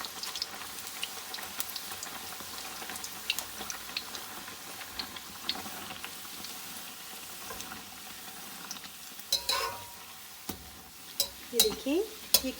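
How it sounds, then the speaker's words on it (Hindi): Puri fries in hot oil with a soft, steady bubbling sizzle and scattered crackles, pressed and turned with a few louder scraping touches toward the end, no voices. "हम लोग पूरी को डालेंगे और इसको फ्राई करेंगे"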